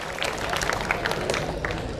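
Scattered audience clapping at a career counseling session, a loose patter of hands with a murmur of voices underneath, moderately near and brief.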